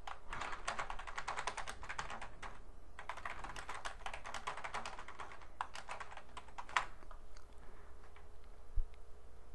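Steady bursts of rapid typing on a computer keyboard while entering text in Notepad, close and clear, with short pauses between runs and the clatter thinning out toward the end.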